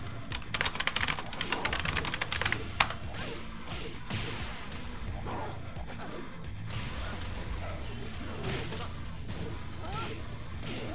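Fast clattering keystrokes on a computer keyboard run steadily throughout, dense and close, mixed with game sound and a voice talking over them.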